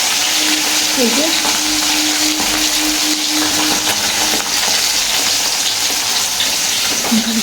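A continuous loud sizzle of fish frying in a pan fills every moment, a steady close hiss with a faint tonal hum running underneath for a few seconds.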